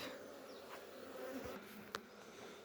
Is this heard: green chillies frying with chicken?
no